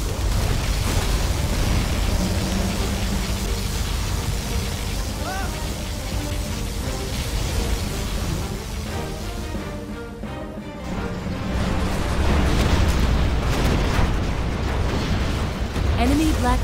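Particle cannon blasts and explosions in Command & Conquer Generals Zero Hour, a dense roaring rumble with bursts and debris, briefly dipping midway before surging again, while game voice announcements are heard.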